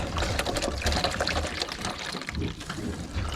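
Water pouring steadily with a gurgling, splashing rush, close and moderately loud, without any speech.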